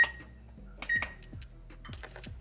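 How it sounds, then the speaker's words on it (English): An oven control panel being set to preheat to 375 degrees gives a few short electronic beeps, mixed with light kitchen clatter, fairly close and moderately loud. "go ahead and preheat your oven to 375"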